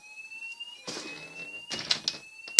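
A mini fire alarm rings with a steady high electronic tone after its button is pushed, while close knocks and handling clatter from the unit break in over it throughout.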